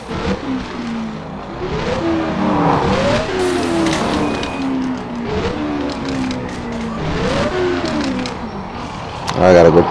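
Video game car engine revving and rising in pitch as it accelerates, with repeated gear-change sweeps, under steady talk from players.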